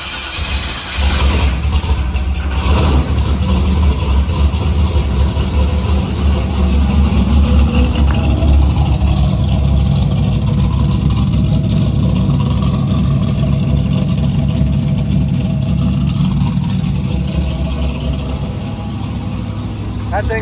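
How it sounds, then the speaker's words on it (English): Carbureted car engine with an aggressive nitrous camshaft running after a timing adjustment, a loud, steady, lumpy idle with a rough choppy rhythm close by, continuing throughout with people talking briefly in the background. "That thing's got a nasty nitrous cam in it."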